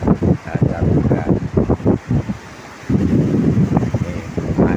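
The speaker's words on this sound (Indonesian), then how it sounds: "Inilah angin sore" Evening sea wind buffeting the microphone at Bancar beach in Tuban, with loud rumbling gusts that rise and fall and a continuous roar from the sea behind them.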